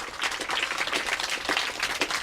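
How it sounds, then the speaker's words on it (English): Audience applause at a Love Water Not Oil fundraising party: a steady, dense wash of many hands clapping, fairly loud and continuous throughout with no voices on top. "Give yourselves a round of applause."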